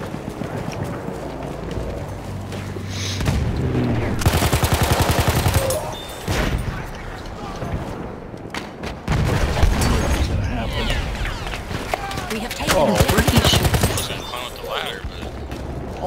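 Battlefield 1 combat with bursts of loud gunfire and clattering, alternating with quieter stretches, plus booms and hoof-like clopping; someone talks over the action at times.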